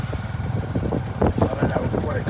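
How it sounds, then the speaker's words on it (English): A tuk-tuk engine drones steadily on a ride into the old town of Siem Reap, Cambodia, its rumble running close and continuous beneath a person talking. "this is the tuk-tuk into the old town"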